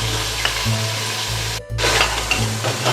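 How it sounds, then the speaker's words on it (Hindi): Whole garam masala of cinnamon, black cardamom, cloves, green cardamom and black peppercorns sizzling in hot oil with frying mutton for shaljam gosht, a loud steady crackle with stirring and a brief pause. "इसके साथ ही हम इसमें थोड़ा सा साबुत गरम मसाला डाल रहे हैं।"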